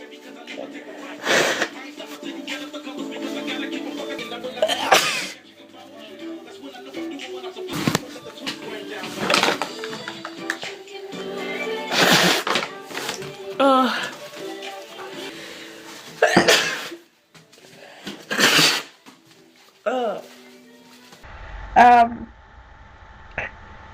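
Two people sneezing repeatedly in a room, a string of sharp bursts spread across the stretch, mixed with sniffing, nose blowing and bits of talk between them; pepper on a tissue is used to set off the sneezes.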